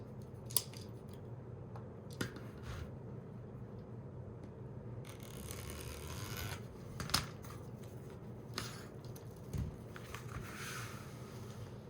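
Scissors snip through black deco mesh, several sharp cuts spaced a second or two apart, with faint rustling of the mesh between them, close and fairly quiet.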